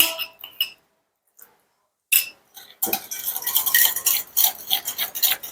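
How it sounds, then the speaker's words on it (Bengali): A spoon stirs and mixes in a bowl, making close, bright scraping and clinking that starts in short bursts after a silent gap and then runs continuously and loudly. "সুন্দর করে এখন আমি মিশিয়ে নেব"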